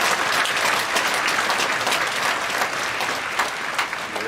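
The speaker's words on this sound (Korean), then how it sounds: "우리 아이들을 위해서도 박수 한번 치겠습니다" A church congregation at a special early-morning prayer service applauds for the children, with warm, sustained clapping filling the room for several seconds.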